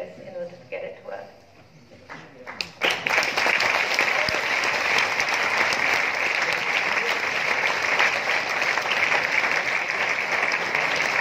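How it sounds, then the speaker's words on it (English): A hackathon crowd bursts into sustained applause after a short stretch of quieter sound, with dense, loud clapping filling the rest. "big round of applause for these two"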